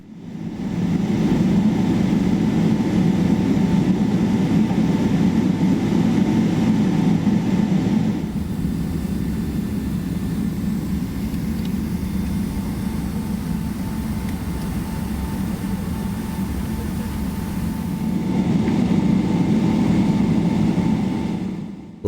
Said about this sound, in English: we're taxiing to the runway for takeoff